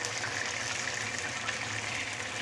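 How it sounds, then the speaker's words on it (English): Fish with ginger and spring onions frying in hot oil, its leftover water making the oil splatter in a steady, dense, close sizzling hiss with no pauses and no talk. "There are still some water content on the fish. That's what making it splatter."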